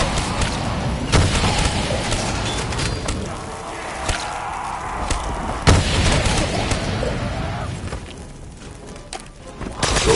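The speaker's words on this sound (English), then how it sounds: "Those rats could not have survived the explosion." Explosions in the Black Ops 3 Zombies map Origins: several heavy booms and thuds over a continuous rumbling game soundscape, loud and close, with dense combat noise throughout.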